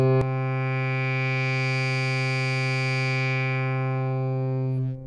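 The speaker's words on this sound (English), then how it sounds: "A little bit of distortion." One held, buzzy synthesizer note through a Sherman FilterBank V2 filter, with a gritty, distorted edge, sustained steadily for several seconds before cutting off.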